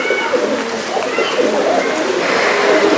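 A pigeon held in the hand coos in low, throaty rolls close by, sounding over a busy background while someone talks nearby.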